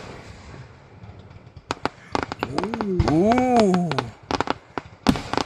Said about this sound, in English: because some of the fireworks are so loud